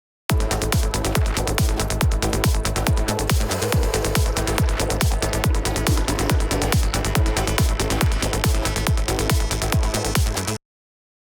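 A loud, dense music track with a steady four-on-the-floor kick runs through tape saturation drive, giving it a thick, warm analog coloring from start to finish.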